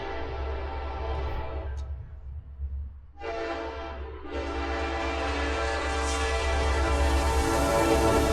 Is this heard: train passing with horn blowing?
yes